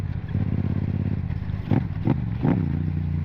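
A motorcycle engine drones steadily up close, with three quick throttle blips rising and falling in succession as it drops through gears.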